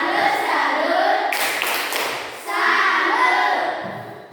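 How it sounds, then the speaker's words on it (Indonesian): A group applauds in a short burst of rhythmic clapping, a Malaysian-style 'tepuk salut' salute clap, heard under and between a voice leading the group. "Mari kita beri dulu tepuk salut"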